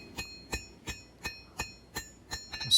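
A hammer strikes hot steel while forging the bevels of a small knife blade by hand, an even run of about eight ringing blows roughly every third of a second, close and clear.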